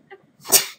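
A single sharp sneeze, close and loud, preceded by a brief faint vocal sound.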